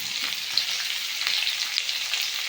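Chopped onions fry in hot oil with a torn dried red chili and a bay leaf broken in two, giving a steady, dense sizzle that crackles close by without pause and with no voices.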